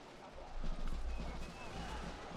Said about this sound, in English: nice cav charge in the back from the Hussars